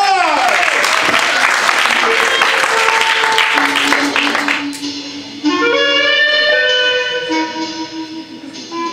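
An improv show audience breaks into a warm round of applause, dense and loud for about four seconds before fading, then a voice begins speaking over the thinning claps.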